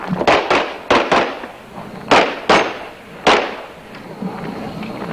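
Gunshots ring out at a practical shooting competition stage during the 1992 US Practical Shooting Association Nationals, a rapid string of sharp, loud cracks in uneven bursts with echoing decays between them.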